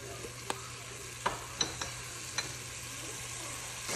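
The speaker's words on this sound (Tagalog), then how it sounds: "magigisa ako. Sa butter ko siya lulutuin." Chicken sautéing in butter with garlic powder for adobo, a steady soft sizzle with a few distinct clicks and taps from a utensil against the pan, no speech.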